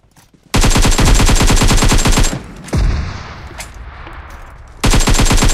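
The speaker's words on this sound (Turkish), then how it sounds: "Ona hücumlu mermi atacağım." Heavy weapon gunfire in PUBG Mobile: two long, loud bursts of rapid automatic fire with a quieter pause between them that holds scattered single shots and ambient noise.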